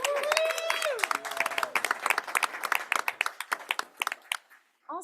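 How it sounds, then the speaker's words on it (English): An audience at a Roanoke City School Board meeting gives a round of applause, starting dense under a speaking voice, then thinning into scattered individual claps before fading to silence. "Let's give them another round of applause."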